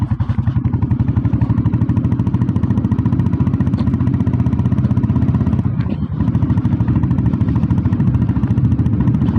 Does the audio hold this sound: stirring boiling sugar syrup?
no